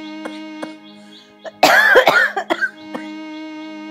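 An elderly mother coughs hard in a close, harsh burst of several wracking coughs with throat clearing, set over a sustained musical drone with a few soft taps.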